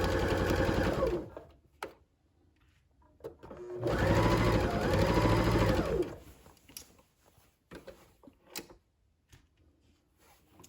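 A sewing machine stitches skirt fabric in two close, rapid whirring runs separated by quiet stretches filled with small clicks and handling sounds.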